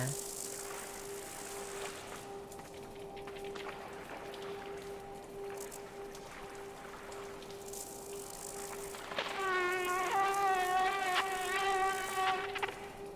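Flying insects buzz in the video game Limbo: a thin, steady whine runs throughout, and a louder, wavering drone joins near the end, close and insistent over a quiet background.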